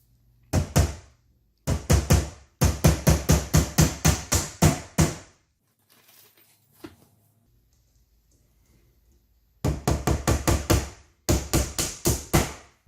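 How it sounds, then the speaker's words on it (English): Nails hammered into the back boards of an EZFurni cube organizer: rapid bursts of sharp, close hammer blows, with a quiet pause midway before two more quick runs of strikes. "Next is to secure the back boards by nailing it down."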